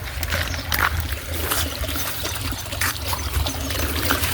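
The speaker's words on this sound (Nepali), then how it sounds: "पानी धेरै आउँछ।" Water gushes into a maize field in a steady, rushing flow with a continuous splashing texture and faint trickling throughout.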